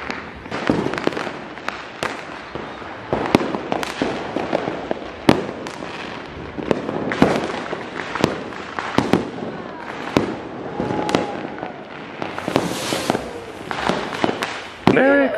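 Continuous midnight fireworks on Christmas Day: a dense barrage of sharp bangs, pops and crackles from many directions, some near and loud, others distant, with no pauses.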